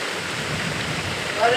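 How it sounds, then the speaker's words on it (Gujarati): Rain falling outside a window, a soft, steady hiss that runs through the brief moment at low level with no voices. "જુઓ મિત્રો એટલે બારીમાંથી ને કેમ વરસાદ પડે"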